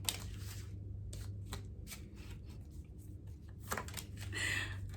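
Deck of tarot cards being shuffled by hand: faint, close riffling and flicking in several short bursts with quiet gaps, plus a low background hum and a brighter rustle near the end.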